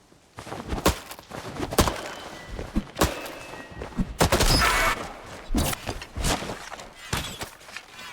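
Repeated shooting in the farming life game Palia, sharp percussive bursts firing at irregular intervals, some close and loud with brief ringing tails, with no voices over them.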